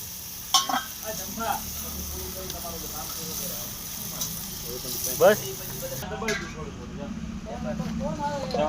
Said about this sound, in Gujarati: હવે જરૂર મુજબ આપણે પાણી નાખશું